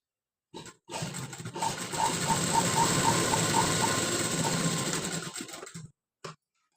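A sewing machine runs steadily for about five seconds, stitching a high collar neck piece in fabric at a half-inch seam, with a brief burst of motor noise just after it stops.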